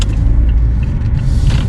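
Steady low road rumble of cars passing by on a road, heard from near a stationary Mazda 2, continuous and fairly loud with no talking.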